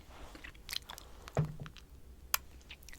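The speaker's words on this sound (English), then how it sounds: "It's not polite to chew gum when you're talking serious." Gum is chewed close to the ear with a few wet clicks and soft squishy smacks at uneven intervals, quiet and intimate with no talking.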